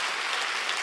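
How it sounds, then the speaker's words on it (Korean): Brief burst of hard, dense clapping from a church congregation during a Sunday worship service, loud and continuous with no pause. "박수 좀 세게 치라고"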